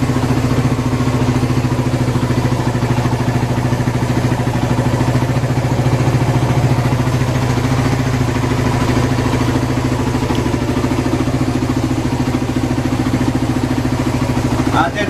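A motorcycle engine idles steadily nearby for the whole stretch, a low, even, slightly clattering hum with a faint background of voices.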